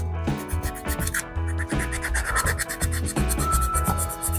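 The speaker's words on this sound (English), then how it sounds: "So I'm just scuffing it up really well" Continuous rough rasping and scrubbing as golf cart paint is scuffed up by hand, with rhythmic back-and-forth strokes, close and steady throughout.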